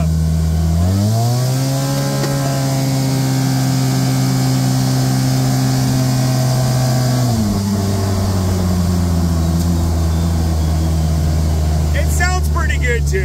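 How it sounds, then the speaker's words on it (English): A high-performance side-by-side UTV engine revs up near 4,800 RPM, a loud close droning buzz that climbs, holds steady, then drops to a lower idle, with a brief rattle near the end. "this motor just loves to rev"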